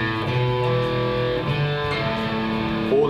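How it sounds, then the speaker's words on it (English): Electric guitar riff from a song, played without left-hand muting so the notes ring together into a sustained, loud wash of overlapping tones with no talk. "All the notes ringing together"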